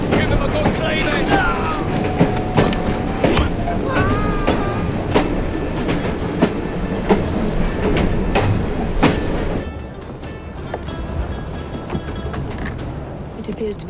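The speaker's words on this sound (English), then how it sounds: "at least we have a train now" A steam-era train in Assassin's Creed Syndicate rumbles and clatters steadily for the whole stretch, dense with clanks and rail knocks. It runs loud and close, easing slightly near the end.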